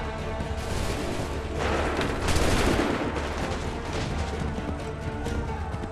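A massed musket volley in the Assassin's Creed III video game: a loud, dense roar of overlapping gunfire that swells and rolls for several seconds with no voices.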